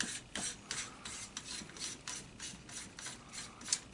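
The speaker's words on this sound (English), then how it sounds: "Once the tube is installed, we can remove the end cap." Fine-threaded end cap being unscrewed from a Remington 870 shotgun magazine tube, giving a faint, close series of short rasping, ratcheting scrapes in an uneven rhythm.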